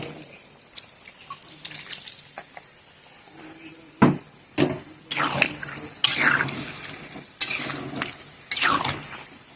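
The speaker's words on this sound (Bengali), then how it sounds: "এবার পরিমাণ মতো জল দিয়ে দেবো" Water is poured and splashed into a pot of mutton curry, with intermittent gushing bursts and clanks between quieter stretches, close and moderately loud.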